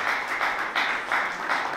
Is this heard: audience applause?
yes